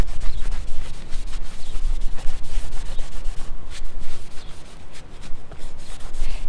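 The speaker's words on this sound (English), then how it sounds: "So you get a plug or piece of material and clean really well when you plan to fix it" A cloth soaked with lacquer thinner scrubs an EPDM rubber roof, making loud, close, continuous rubbing strokes in an uneven back-and-forth rhythm with no talking.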